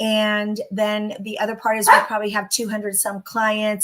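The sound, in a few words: dog barking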